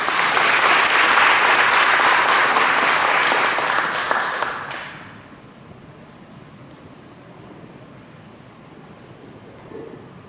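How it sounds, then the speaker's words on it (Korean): Loud, dense applause from delegates at a church general assembly candidates' policy forum, sustained for several seconds before dropping off into a quiet room hum. "큰 박수 해주시겠습니다."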